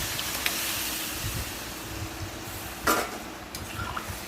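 A ladle stirs boiled mung dal and bottle gourd in a cooking pot, giving a soft, continuous scraping and sloshing. A brighter clank of metal on the pot comes near the end, with no voices.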